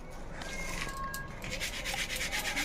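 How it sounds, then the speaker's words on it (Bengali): Powdered ground sugar sifted through a sieve, a soft continuous rubbing and scraping that stays steady and close for nearly three seconds with no voices. "আর একটু চেলে নেব"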